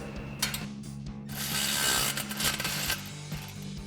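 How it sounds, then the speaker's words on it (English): Ratchet with a 13mm socket tightening an exhaust tip clamp on a Chevrolet Silverado 2500, rapid close clicking in short bursts over a steady low hum. "we're going to go ahead and grab our 13mm socket on our ratchet and a 13mm wrench"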